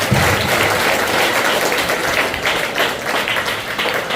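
Audience at a parenting talk breaks into loud, sustained applause, a dense wash of clapping that holds steady for several seconds without any voice over it.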